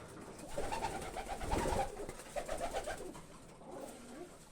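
Budapest breed pigeons cooing in a loft, repeated soft rolling coos in bursts, fairly close and alone without talk.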